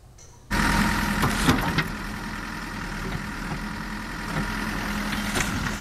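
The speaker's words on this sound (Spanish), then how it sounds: "manejando una retroexcavadora" Backhoe engine running in a flood-affected area, starting abruptly and then settling into a steady, loud mid-to-low diesel rumble that continues throughout with small surges.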